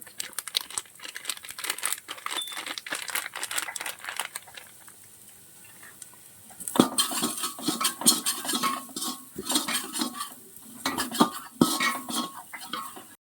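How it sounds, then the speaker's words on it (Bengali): Reddened fried onions are stirred in a pan with chili powder, a ladle scraping and clinking against the metal over a soft sizzle, in uneven bursts of close stirring. "বন্ধুরা আমাদের পেঁয়াজ লাল লাল করে ভাজা হয়ে গেছে লঙ্কার গুঁড়ো দিয়ে দিচ্ছি"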